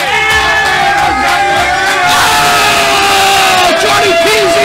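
A live comedy club audience cheers and whoops loudly, a dense crowd roar with shouts swelling and sustaining throughout.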